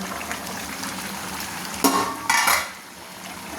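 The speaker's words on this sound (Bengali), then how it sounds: "তো চাপাটা আমি এখন তুলে নিচ্ছি" Over a steady sizzle of braising mutton, a pot lid is lifted off with two sharp metallic clatters close by, after which the hiss continues a little lower.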